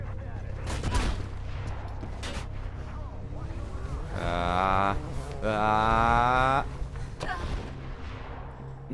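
Rapid bursts of gunfire in the video game Mirror's Edge, dense cracking volleys over a busy game soundscape, with a voice speaking in places.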